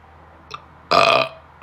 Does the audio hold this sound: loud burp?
yes